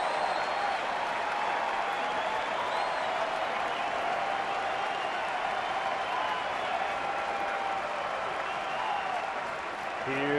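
Baseball crowd at a 2009 Atlanta at Chicago Cubs game, cheering and applauding in a steady, dense roar that fills the whole stretch without a break.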